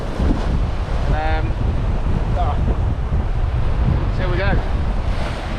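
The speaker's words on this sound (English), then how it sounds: "I'll need to try and time this right to get a nice wave crashing through the rocks" Waves surge and crash through rocks on a windy shore, a steady roar of surf and wind buffeting the microphone throughout, with someone speaking briefly over it.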